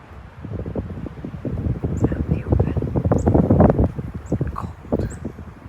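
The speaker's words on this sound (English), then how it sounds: "It's very, very windy." Strong gusting wind buffets the microphone on a cold winter trail, a rumbling, surging roar that swells and fades, with a few faint bird chirps above it.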